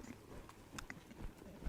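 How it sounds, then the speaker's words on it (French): A relaxed horse walks at an even pace during a ranch-style training session, its hooves making faint, soft clip-clops at a distance against quiet background noise. "On a une belle cadence, un cheval bien relax."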